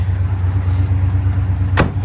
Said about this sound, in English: This is a really good running engine.